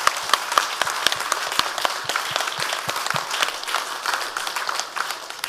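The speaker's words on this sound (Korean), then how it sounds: "박수 한번 해주시기 바랍니다." A congregation claps during a Sunday evening church service: dense, steady applause from a full room that holds for several seconds, with no voices over it.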